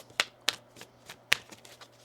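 Tarot cards being shuffled by hand during a reading, several short crisp riffling bursts close by, separated by brief quiet gaps.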